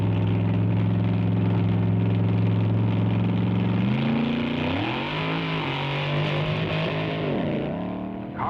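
A drag racing car at the 1962 U.S. Nationals holds a loud, steady engine drone, then its pitch rises and wavers as it revs and accelerates, close and alone.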